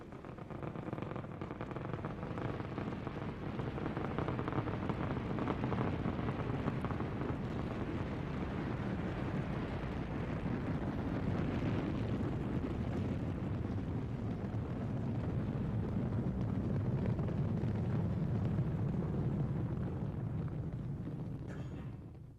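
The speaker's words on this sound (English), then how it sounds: "booster ignition and liftoff of Endeavour in pursuit of a Japanese satellite" The Space Shuttle Endeavour's solid rocket boosters thunder at liftoff with a continuous, heavy broadband roar and crackle that holds steady and loud throughout, with wind buffeting the microphone.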